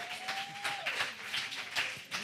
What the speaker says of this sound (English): Kamara, and Janet a real round of applause.